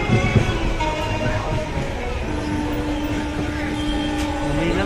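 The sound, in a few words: Kandari Express train running from Howrah station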